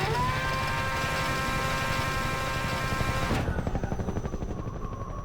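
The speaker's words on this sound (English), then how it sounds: "it wouldn't be a proper Half-Life game without a helicopter chasing you" In Half-Life 2, a chasing helicopter gives off a loud, steady rotor thrum with engine whine, the pitch and brightness dropping sharply partway through as the throbbing rotor pulse carries on, with no talking.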